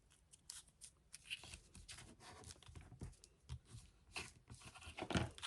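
Scissors snip through the corner of a folded craft card, giving a few quiet, crisp cuts with small rustles of paper between them and no voices.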